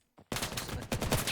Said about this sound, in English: Black and Vero hears the gunfire